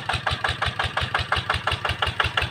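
A Magnum 155 engine pump drawing river water through an old, leaking hose chugs steadily up close, a loud rhythmic pulsing beat about five times a second, with no talk.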